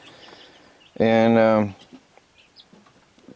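Chickens kept in the loft of an off-grid tiny house, with one loud, harmonic squawk lasting over half a second, then faint scattered clucks and rustling in a quiet room.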